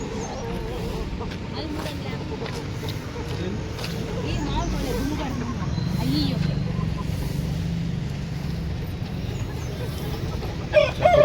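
Broiler chickens cluck and cackle steadily near a street in Lalaguda, Secunderabad, with people talking over the birds and traffic murmuring behind them.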